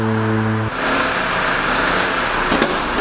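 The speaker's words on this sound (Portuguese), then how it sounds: "E depois vocês vão acompanhar a primeira partida desse carro aqui." A car engine cranks and catches for its first start after repair work in a mechanic's shop, with a short starter whine giving way to a steady, loud running engine note that continues alone.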